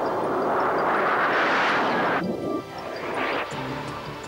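A Harrier jump jet's engine roars loud and broadband, with a sustained jet rush that dips and then swells again, like a passing or manoeuvring military aircraft.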